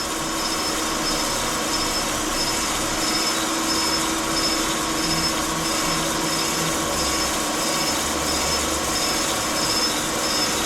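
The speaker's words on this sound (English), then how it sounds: "I'm just going to start moving the crankshaft over now to go and grind on the left hand side" Crankshaft regrinding machine taking light 2-thou cuts on the left side of a Renault F4R crankshaft from a Clio 182 engine, a steady, dense, continuous grinding hiss with a constant motor drone throughout, no talk.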